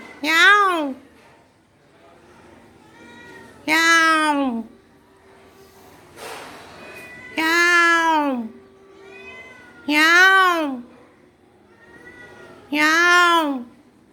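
A house cat meows five times in a slow, even rhythm, each call clear and close. A person's voice fills the gaps between the meows, likely imitating the cat.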